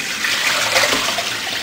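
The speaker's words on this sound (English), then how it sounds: "what I'm going to do is I'm just going to pour them into a colander" Water and defrosted shrimp pour into a colander, a steady close splashing rush of draining liquid lasting the whole moment.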